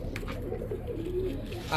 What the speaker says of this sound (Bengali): অনেক বড় সাইজের একটা লাল মাখরা মাদি কবুতর